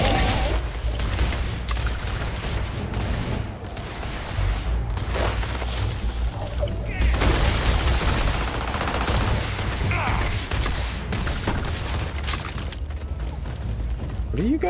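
Rapid gunfire from the video game Starfield rattles in dense bursts with booming impacts and mechanical clatter, continuing throughout as a voice talks over it.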